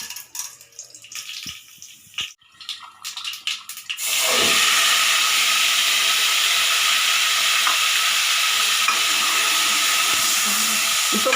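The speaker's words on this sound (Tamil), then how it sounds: "இப்போ மசாலா கடுகு பொரிஞ்சது" Mustard seeds and chana dal spluttering in hot oil for dal rice: sparse crackles and clatter at first, then a loud, steady hiss of sizzling oil from about four seconds on, close and unbroken.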